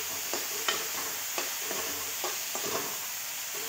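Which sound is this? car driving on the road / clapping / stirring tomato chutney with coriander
stirring tomato chutney with coriander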